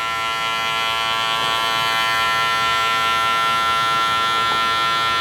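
Babyliss hair clippers with a locking taper lever buzz steadily and loudly throughout a skin fade haircut, a constant electric drone with no talk.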